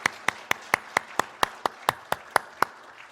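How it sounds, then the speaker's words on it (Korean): Slow, unison clapping from a Korean church congregation at Sunday worship, about a dozen evenly spaced sharp claps, clear and fairly close with no talk. "하나님께 영광의 박수 올려드리겠습니다."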